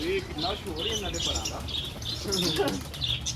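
Parrots chirp and squawk repeatedly over a constant low background rumble, with several birds calling near and far.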